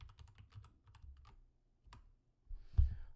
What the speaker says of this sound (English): Typing a thing.